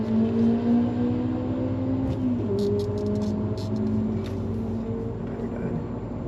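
A Mercedes E55 AMG at a drag strip holds a steady engine drone, its pitch climbing gradually and shifting once midway as it races a Mustang. Faint high clicks sit above the engine, with no voices.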